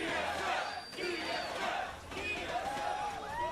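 A large crowd at a League of Legends esports match chants the team name TSM together in a loud, continuous roar, echoing as if in an arena.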